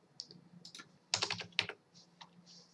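Fingers tap on a computer keyboard in a short, close burst of quick keystrokes with brief gaps, quiet and alone.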